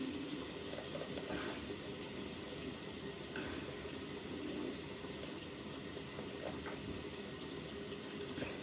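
Tap water runs steadily into a bathroom sink, warming up for rinsing, a continuous even splashing rush at moderate distance with no pauses.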